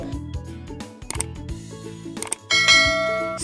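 A bright, tonal notification ding plays as a sound effect. Several short chime hits come in quick succession, then one louder ringing tone sustains and decays at the end, with no voices.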